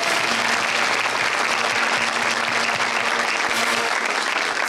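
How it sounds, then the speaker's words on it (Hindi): A studio audience at an Eid-ul-Adha special television show applauds loudly and continuously, a thick wall of clapping at even volume from start to finish, with faint music tones underneath and no voices. "तालियां बजाइए जोरदार।"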